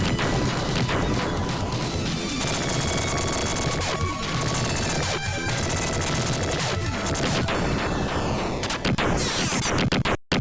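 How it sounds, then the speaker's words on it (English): Dense explosions and rapid gunfire from a Sega Genesis game, loud and continuous with repeated crashing blasts and bursts of shots layered throughout, no talking. "The explosion sounds are always really satisfying in this game."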